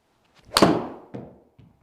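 A golf ball is struck with a Taylormade P790 iron, giving one sharp, bright crack followed by a fading whoosh, with a couple of faint softer knocks afterward.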